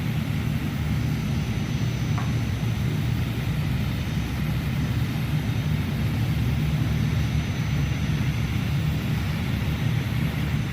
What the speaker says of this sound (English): sounds like we got both engines running